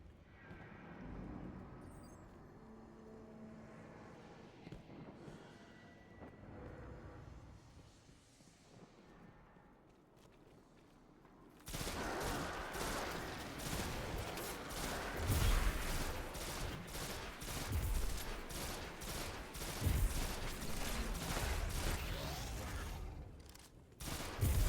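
Enemy gunfire in Destiny 2. Quieter game ambience comes first, then dense rapid firing breaks in about halfway through and keeps going loud and close, with heavy rattling bursts and impacts.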